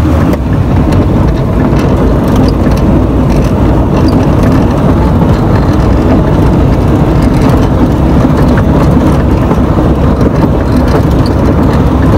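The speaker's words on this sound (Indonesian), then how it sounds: "Kita lihat ini di rendah sehingga mesin cukup bekerja keras untuk menahan laju jeep." A jeep's engine holds back the vehicle in low gear on a steep descent, a continuous loud rumbling drone with rattling, unbroken throughout with no speech.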